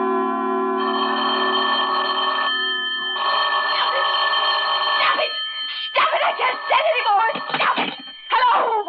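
Old-time telephone bell ringing in long, insistent bursts in the radio drama Sorry, Wrong Number, followed by a voice speaking over and between further rings.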